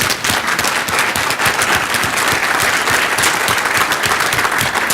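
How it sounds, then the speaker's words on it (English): A conference audience at a rail industry talk gives a loud, dense round of applause that stays steady and close throughout. "So everybody, a round of applause for Peter"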